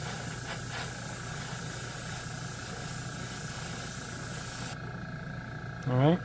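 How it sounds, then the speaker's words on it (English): Paint spray gun releasing only air during a Champagne Gold paint job: a continuous hiss that cuts off abruptly near the end, followed by a brief rising whine. "This is just air coming out."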